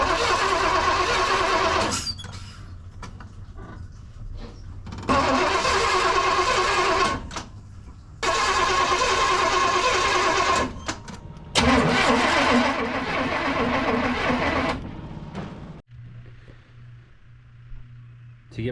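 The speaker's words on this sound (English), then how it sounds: "I had my wife crank the vehicle" A 1992 Chevy C1500 with a TBI small-block V8 cranks in several loud, churning bursts of a few seconds each, separated by pauses, and then settles into a quieter low idle at the end.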